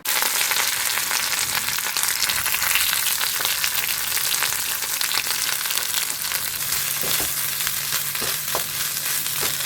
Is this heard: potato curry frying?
yes